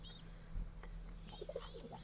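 Pet pigeons cooing softly in a backyard loft, a few low throaty coos at medium distance over a quiet background hum, with faint chirps from other birds and no talking.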